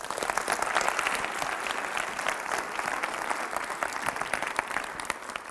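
Sustained audience applause at a school leadership gathering, a thick continuous clatter of many hands that holds steady and loud for several seconds.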